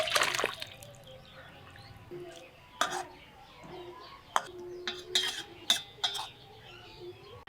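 Katla fish curry with cauliflower is poured from the cooking pot into a bowl, with scattered clinks and scrapes of metal utensils against the pot and a soft, wet splash.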